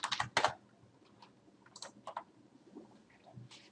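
Keys clack on a computer keyboard, first in a loud quick burst of presses and then as scattered, softer taps and clicks, close and with no voices.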